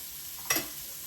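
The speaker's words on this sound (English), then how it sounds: "we're just going to let that sizzle for a little bit till it gets brown" Chicken browning in a hot pan gives a steady, close sizzle, with one brief louder crackle partway through.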